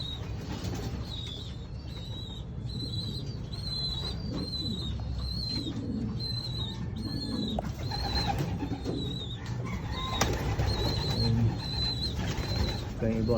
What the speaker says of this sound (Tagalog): ang lakas ng ibon na yun no?